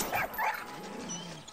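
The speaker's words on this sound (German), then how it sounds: "Du bist ein sehr großer Hund." A large dog in the Far Cry 6 game gives a couple of short yips and a whimpering whine, near and moderately loud over soft background ambience.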